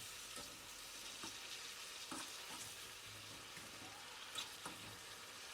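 Mushrooms roasting in plenty of butter in a pan in a village kitchen, with a faint steady sizzle and scattered soft scraping and stirring taps throughout.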